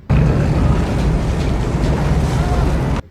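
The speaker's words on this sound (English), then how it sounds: "The wind's just gusting, like probably 70k winds." Strong gusting wind buffets the microphone at an outdoor truck campsite, a loud, continuous roar with rough swells that holds steady for about three seconds before cutting off.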